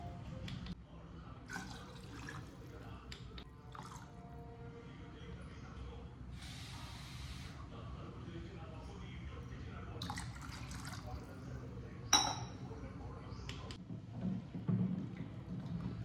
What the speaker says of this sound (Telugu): ఇప్పుడు ఈ గ్లాస్తో ఒక 3 గ్లాస్ వాటర్.